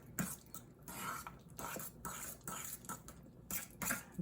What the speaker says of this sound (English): we're gonna go ahead and mix that all together